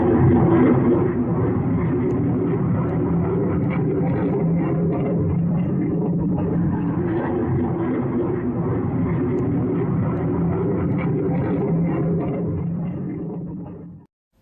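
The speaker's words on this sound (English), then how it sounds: "Residents in the city of Chengdu recorded a mysterious plane flying over the city." A diamond-shaped military jet flying over the city of Chengdu, China, heard as a loud, continuous broadband roar that holds steady for about thirteen seconds before cutting off abruptly.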